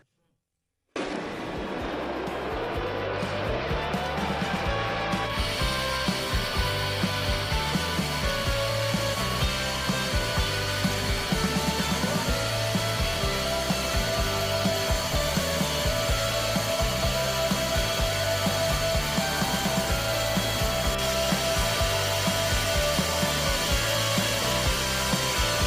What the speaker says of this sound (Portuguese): Agora vou levar de novo para o torno e vou usinar essa superfície de novo